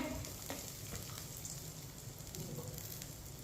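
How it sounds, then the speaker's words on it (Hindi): Semolina for halwa roasting on low heat in a pan, stirred with a spoon, gives a steady, soft crackling sizzle with faint scraping throughout; no voices. "कम आंच पर 2 मिनट के लिए चम्मच चलाते हुए भुने।"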